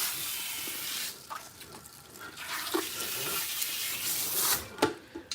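Water runs steadily from a tap into a sink while conditioner is rinsed out of hair, a continuous close hiss with brief splashes and rubbing sounds, with no one talking.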